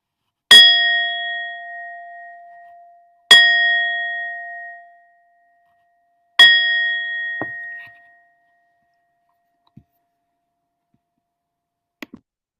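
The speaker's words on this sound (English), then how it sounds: "So I'm going to begin with the inviting of the bell." A meditation bell is invited three times, each clear ring struck and left to fade slowly into silence, followed by a few faint soft ticks.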